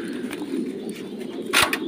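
A caged grass bird at a bird-rearing spot gives short soft calls, with a sharper bright call near the end, close by over a low background hum.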